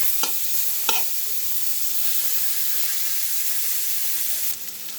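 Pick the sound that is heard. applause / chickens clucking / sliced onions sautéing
sliced onions sautéing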